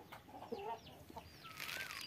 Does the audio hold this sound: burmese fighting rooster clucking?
yes